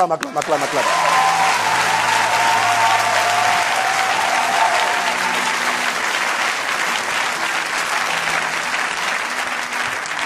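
A church congregation applauds loudly and steadily for about ten seconds, a dense wash of clapping with scattered voices and a few cheers mixed in during a sermon.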